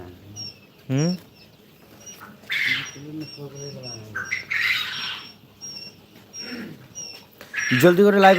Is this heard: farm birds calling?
yes